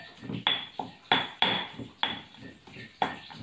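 A pestle pounds garlic, galangal, chilies and palm sugar in a mortar, making about eight sharp, uneven thuds with hard clinks. The hits are close and fairly quiet, with no talk.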